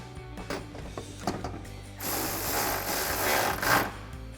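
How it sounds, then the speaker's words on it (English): A ratchet with a 10mm socket clicks in quick bursts while tightening a nut on a stud on a 2015-2023 Dodge Challenger headlight, then a broader rattling whir, close and loud with no voices. "We'll tighten it down with our 10mm socket."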